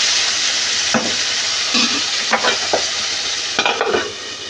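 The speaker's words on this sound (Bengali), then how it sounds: "নুন দিয়ে ভালো করে নেড়ে চেড়ে ঢাকা দিয়ে দেব।" Tomatoes with salt stirred in a pan while cooking for an egg dish, a steady sizzle with several distinct scraping stirs of the spoon spread through the clip, no talking.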